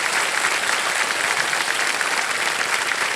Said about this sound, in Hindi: तालियां बज जाए इनके लिए एक बार फिर जोर से